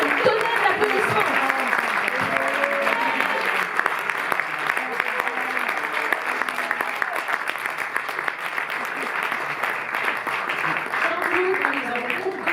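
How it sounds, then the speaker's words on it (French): An audience at a Paris cinema premiere applauds the actor, a dense, even roll of clapping lasting the whole stretch, with a voice or two faintly audible beneath. "à qui on peut dire un tonnerre d'applaudissements."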